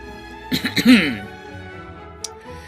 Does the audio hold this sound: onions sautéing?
no